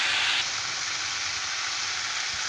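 Water poured into a pan of frying rohu fish curry with tomato and potato sets off a loud hissing burst that settles into a steady, close, bubbling sizzle.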